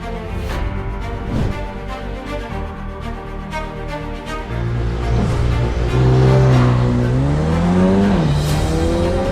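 A Mercedes-AMG CLA 35 sedan with a 306-horsepower engine accelerating hard on a race track, its engine note loud and close, climbing through the gears with rising pitch sweeps and brief dips at each shift.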